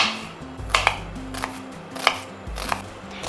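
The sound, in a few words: knife slicing onion thinly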